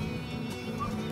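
A horse neighs once, fairly close, in open Patagonian ranch country in Chile, its brief whinny rising over quiet outdoor ambience.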